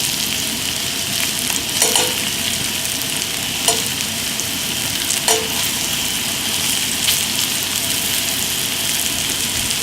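A hot pan of oil sizzles loudly and steadily with floured chicken frying in it, with a few brief clinks or pops and no talking.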